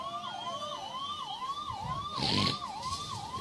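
An emergency vehicle siren wails in a steady rising-and-falling cycle moving through a crowd, moderately distant, with a brief burst of louder noise near the middle.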